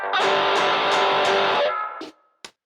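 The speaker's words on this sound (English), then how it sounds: "I click on the distortion pedal for even more added distortion" An electric guitar plays a solo-style passage through a distortion pedal, with gritty sustained notes and repeated picked accents, then a brief cutoff and a couple of short isolated stabs.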